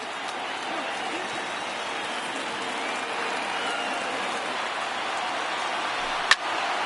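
Broad stadium crowd roar from MLB The Show 19 baseball game, a dense, steady wash of cheering from a crowd of over 39,000 on their feet, sustained throughout with a brief sharp pop near the end.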